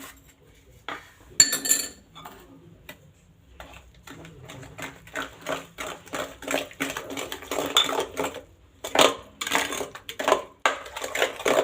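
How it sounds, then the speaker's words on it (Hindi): A spoon mixes Russian salad in a bowl, seasoned with white pepper, giving bursts of clinking and scraping against the dish. It starts sparse, then turns into steady, close stirring clatter. "इसको हम अच्छे से मिक्स कर लेंगे।"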